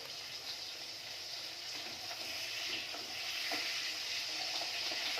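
Green chillies added to fish frying in hot oil in a pan, producing a steady dense sizzle and crackle that stays fairly quiet and even for a few seconds, with no talking.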